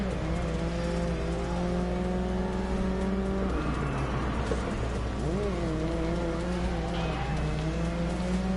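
The race car engine in the Grid Legends video game roars close and loud, revving up and down through gear changes with rising and falling pitch, and tire squeals mixed in.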